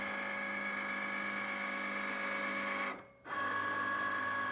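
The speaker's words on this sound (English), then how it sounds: "hit this C that's blinking, and Cricut is going to cut her out." A Cricut cutting machine cuts a design for a T-shirt, giving a steady mechanical whir with a constant tonal hum that pauses briefly near the end and then resumes, with no speech.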